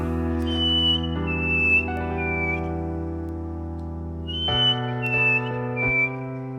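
A person whistles a melodic tune with clear sustained notes over a steady low instrumental backing, the whistle sliding between pitches.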